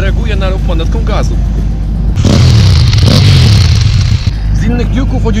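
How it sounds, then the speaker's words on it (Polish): A KTM 790 Duke motorcycle engine revs hard in a burst of throttle, loud and close, with someone talking before and after. "To brzmi tak jak fałka i podobnie też reaguje na ruch manetką gazu."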